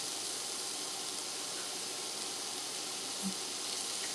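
Shirataki noodles sizzle softly as they brown in a pan, a steady, faint hiss that runs on throughout with one small knock partway through.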